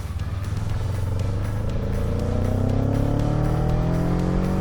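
A cheap gas/electric hybrid motorcycle rides on the highway, its engine droning loudly and steadily up close as it accelerates and the pitch climbs, mixed with rushing wind.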